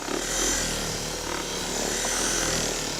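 A large power buffer polishes a faded car hood, giving a steady, loud whirring drone with a gritty rubbing texture that holds evenly throughout, with no talk.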